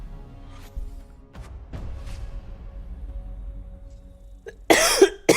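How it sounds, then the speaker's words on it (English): A person coughs in a loud, harsh burst of several rapid coughs near the end, close to the mic, after quieter breathy throat sounds during a Rainbow Six game stream. "Oh, why am I coughing?"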